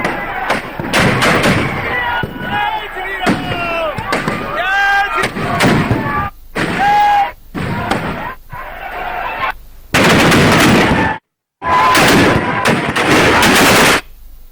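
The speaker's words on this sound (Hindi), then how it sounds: "पटाखों की गूंज और आतिशबाजी के बीच रावण के पुतलों को जलाया गया।" Rapid bursts of firecrackers crackle and pop loudly in dense volleys at a Dussehra Ravana effigy burning, broken by short pauses, with crowd noise around them.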